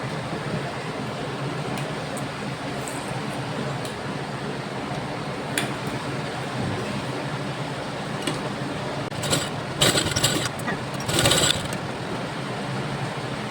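A sewing machine runs in a steady, low mechanical whir with faint ticking while stitching a dart on a double katori blouse, with a few louder clicks and rustles near the end.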